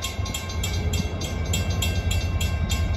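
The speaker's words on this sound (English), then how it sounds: "Got the New Hope and Ivyland GP30, a former Pennsylvania Railroad Penn Central locomotive, 2198." New Hope and Ivyland Railroad Santa Claus special passenger train pulled by a former Pennsylvania Railroad and Penn Central GP30 diesel, number 2198, on former Reading trackage. The train rumbles past close by, with steady wheel clicks repeating about every third of a second.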